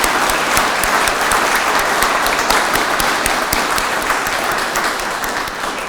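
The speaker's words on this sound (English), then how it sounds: "So, a round of applause for everybody," Sustained applause from an audience at a fire rescue awards and promotions ceremony, dense steady clapping that holds loud for the full stretch and eases slightly near the end.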